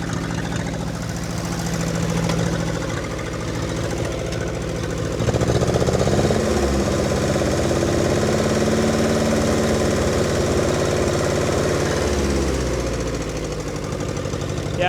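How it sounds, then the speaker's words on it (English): A 1952 Ferguson TEA 20 tractor engine with a new ignition system chugs and idles nearby, its knocking rhythm shifting as the revs rise and later drop back. "I did a new ignition system on this tractor too, and it's running much better now"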